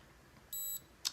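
A wrinkle iron beauty device gives a single short, faint electronic beep during a facial lymphatic drainage routine, followed by a tiny click in an otherwise quiet room.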